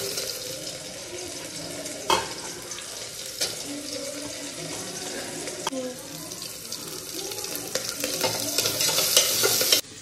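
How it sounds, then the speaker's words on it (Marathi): Potato mixture being stirred and sautéed in a pan for a dal khichdi, with a steady sizzle and the scrape of a spoon throughout that grows slightly louder toward the end, plus a few sharp clinks. "परत घालूया याच्यामध्ये पोटॅटो."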